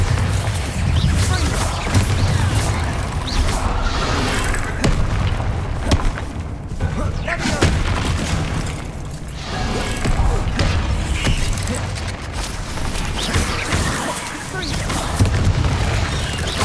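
Booming magical blasts from the Bombarda blasting spell in Hogwarts Legacy, dense and continuous combat explosions with rumbling low end and bursts repeating across the clip amid the game's battle noise.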